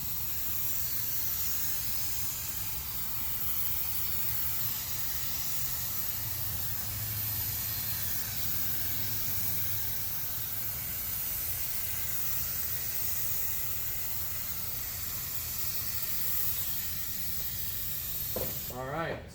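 Liquid Concepts activator sprayed over a large sheet of film floating on water, producing a loud, steady hiss that runs continuously for about nineteen seconds before stopping.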